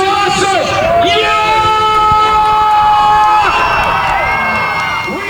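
A crowd at a night drag racing event in Benson, North Carolina cheers and whoops, loud and sustained, with shrill high yells rising above the roar throughout.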